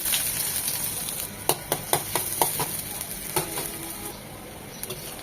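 Chopped onion and black cumin sizzle in mustard oil in a pan, a steady frying hiss broken by several sharp clinks and scrapes of a spoon stirring.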